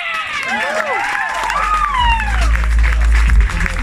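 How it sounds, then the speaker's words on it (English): Applause and cheering from the audience at a poetry open mic, a steady crowd roar with whoops, while a voice speaks over it and a low rumble rises partway through. "And keep applauding for our next open micer."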